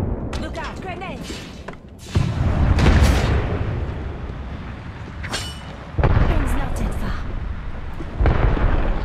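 Grenade blasts in Apex Legends as the ring closes: heavy, booming explosions hit three times, each a sudden loud rumbling burst that lingers, over constant game noise with voices talking.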